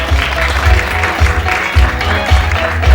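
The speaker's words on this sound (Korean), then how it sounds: "박수로 맞아주시기 바랍니다." Applause from the audience as a film's director and cast are welcomed onto the stage at a production press event, loud, even clapping with deep rhythmic thumps underneath.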